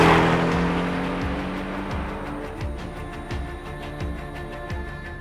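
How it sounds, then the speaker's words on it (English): The four-cylinder engine of a 2018 Porsche 718 Cayman GTS pulls hard under acceleration, its revs climbing and dropping through a series of quick upshifts, loud and sustained over steady road and wind noise. "the engine of the latest Porsche Cayman GTS has its predecessor outnumbered"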